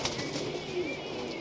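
A pigeon coos softly in a brief low murmur over faint background hiss, fairly distant and quiet.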